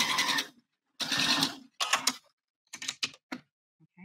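Sewing machine stitching a bra seam in bursts: two longer runs of rapid needle chatter, then a string of shorter stitching spurts separated by silences, close and clear.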